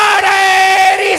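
A large crowd at a religious gathering celebrating Nizamuddin Auliya roars a unified slogan response, a loud, sustained chorus of many voices shouting together in one brief burst.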